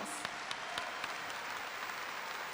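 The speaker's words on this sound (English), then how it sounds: "Let's give them an applause." A graduation crowd applauds honored high school students, a soft, even, distant-sounding wash of claps that holds steady throughout with only a few sharper claps.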